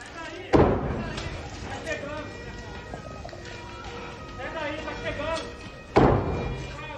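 Firefighters batter a locked house door during a house fire in Varginha, two heavy loud slams some five seconds apart, with voices and commotion in between.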